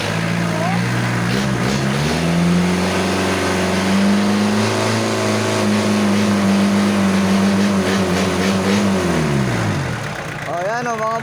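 An old-model 4DR5 diesel engine on a vehicle with transmission revs up loudly and holds high for several seconds, then drops back toward idle, a continuous close roar with a voice briefly heard over it.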